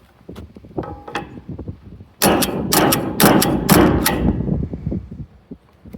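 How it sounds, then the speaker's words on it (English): A pistol fitted with a Cyelee Wolf EDG optic is racked against a marble surface. A few light clicks and taps come first, then a burst of loud, hard knocks and scraping impacts close by. "So we've got some marble and some steel that we can go ahead and try and rack off of."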